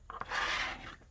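Glued paper for a folio project is folded over, making a soft, close dry rubbing and rasping that swells for about half a second, then fades.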